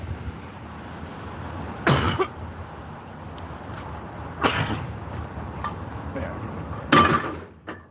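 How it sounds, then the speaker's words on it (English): Three separate coughs, sharp and fairly loud, spaced a few seconds apart over a low background rumble. "Been like coughing all fucking morning too"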